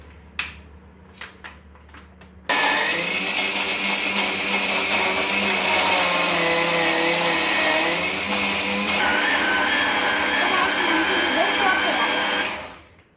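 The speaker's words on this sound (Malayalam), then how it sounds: "ഇനി നമുക്കിത് മൂടി വെച്ച് അടിച്ചെടുക്കാം" A kitchen blender whirring loudly as it purees apples with sugar for apple juice, starting abruptly after a few light knocks, holding a steady high-pitched drone with a slight pitch shift midway, then cutting off.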